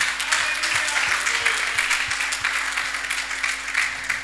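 A church congregation applauds the Lord with steady, fairly faint clapping that continues throughout under a constant background hum.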